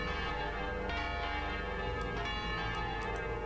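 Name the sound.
large bells ringing again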